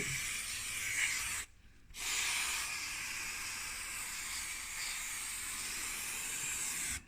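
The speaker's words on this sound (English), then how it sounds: "now silicone lube, just give everything a bit of a spray up and down the worm gear" A close, steady hiss of aerosol silicone lubricant sprayed onto a VW Mk1 Caddy window worm gear, held for over a second, a brief pause, then a long continuous spray burst.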